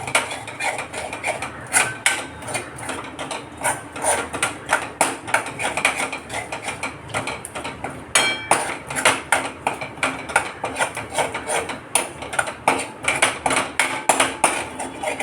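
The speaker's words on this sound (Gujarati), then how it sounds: "અને તમારે કન્ટિન્યુ હલાવવી પડશે, નહીંતર મગની દાળ બેસી જશે." Moong dal roasts in ghee in a pan while a metal spoon stirs it without pause. Loud, rhythmic scrapes and clinks against the pan repeat throughout, close and prominent.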